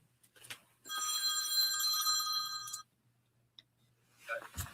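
A telephone rings in one continuous trilling burst of about two seconds, loud and close, then cuts off into near silence with a few faint background noises.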